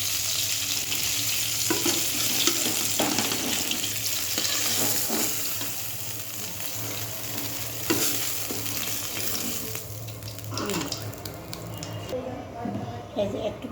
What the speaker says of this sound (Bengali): এই যে দেখো ভাজা হয়ে গেছে, এবার আমি নামিয়ে দেবো।